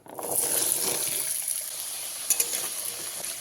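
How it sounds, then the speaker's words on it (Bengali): Potato pieces frying in hot oil mixed with ghee in a pan, a loud bright sizzle that swells at the start and settles into a steady crackle with a couple of brief stirring clinks. "তেলের মধ্যে ঘিটা দিয়ে সবজিটা ভাজলে সবজি থেকে একটা সুন্দর ভাজা গন্ধ আসে আলুটা ভেজে নেবো"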